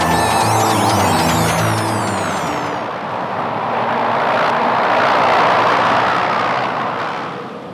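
A propeller airplane roars past in an animated film, a loud, steady engine drone that swells and fades, with a brief ringing whistle at the start.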